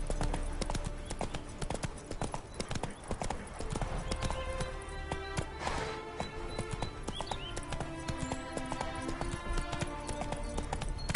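Video game horse hooves clop along steadily in a quick rhythm on a path in The Witcher 3, close and clear, with a brief whinny and ambient game sounds.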